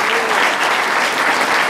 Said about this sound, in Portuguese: Isso vale a pena a gente aplaudir.